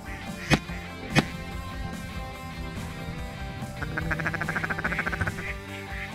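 Ducks quack during a duck hunt in a rapid, rhythmic series of calls at moderate distance, over steady background noise, after two sharp isolated bangs earlier.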